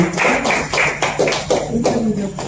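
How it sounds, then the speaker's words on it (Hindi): Applause at an annual human rights press conference, heard as rhythmic bursts of clapping about every half second, close and fairly loud, with no speech over it. "जोरदार तालियों के साथ इनका सम्मान"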